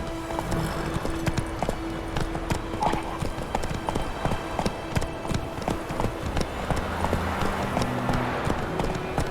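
Roach, the horse in The Witcher 3, gallops with a steady rapid clip-clop of hooves close by, a brief whinny mixed in, continuous over game ambience.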